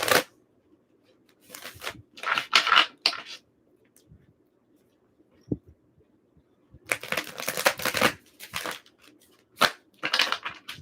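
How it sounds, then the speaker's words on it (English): Tarot cards are shuffled in several bursts of riffling and crisp shuffling, separated by quiet pauses, close and fairly loud. "One more shuffle"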